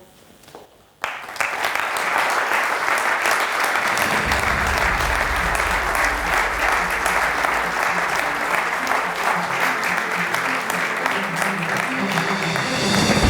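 An audience applauds honoured legends as they come on stage, dense sustained clapping that starts abruptly and swells with a crowd roar, continuing steadily for over ten seconds.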